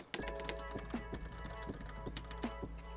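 Keys on a KBD67V2 MKII mechanical keyboard clicking with a slightly hollow tone, a steady run of close, quiet taps and a few sharper hits over a low hum.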